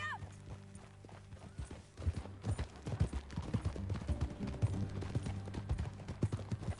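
A horse in Red Dead Redemption 2 moves at a riding pace, its hooves making a steady, rhythmic clip-clop over a low, continuous background hum.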